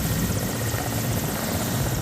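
A helicopter flies overhead carrying polling teams to remote voting stations in Bastar, a steady, loud rotor drone with a continuous whirring throb and no talk.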